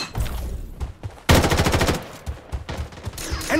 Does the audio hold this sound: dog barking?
no